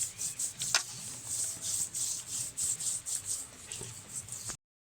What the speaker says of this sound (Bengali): ভালোভাবে বেশ কয়েক মিনিট ধরে ঘষে নিয়েছি